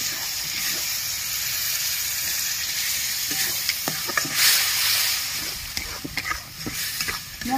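Ground spice masala with tomato paste, coriander, cumin and chili powder sautés in a pan for jackfruit biryani, a continuous loud sizzle with scattered crackles and occasional spatula scrapes, no voices.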